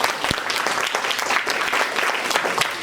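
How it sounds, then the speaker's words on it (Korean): A church congregation applauds together, steady dense clapping from a crowd filling the room, fairly loud and continuous with no talk over it. "우리 새로운 식구들 위해서 박수 부탁드립니다."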